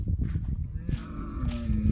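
A cow gives a low, drawn-out moo at close range, with farmyard rustling around it.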